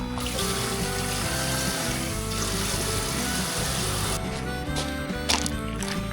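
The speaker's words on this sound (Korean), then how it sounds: "밀면이기에 찬물에 씻으러 갑니다" Cold tap water gushes steadily over cooked glass noodles being rinsed at a campsite, a close, constant splashing rush that thins into trickles and a few clinks near the end.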